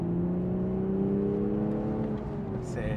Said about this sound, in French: on l'entend vraiment spouler le turbo, on l'entend qui monte en pression